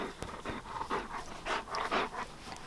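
A happy dog, Akela, pants in quick rhythmic bursts close by, breaths pulsing steadily for a few seconds with no talk over them.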